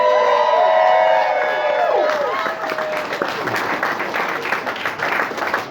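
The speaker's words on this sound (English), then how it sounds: "How about a big round of applause for Soni" Wedding guests break into loud applause and cheering for the bride, a dense crowd of clapping with scattered whoops filling the room at close range, fading slightly toward the end.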